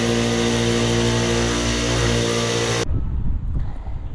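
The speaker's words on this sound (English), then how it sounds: "So now I'm gonna run these edges on my polishing wheel" A polishing wheel burnishes the edges of a custom tooled leather wallet, giving a loud, steady motorized whir with a humming drone that cuts off abruptly, leaving quieter low rumbling and faint handling noise.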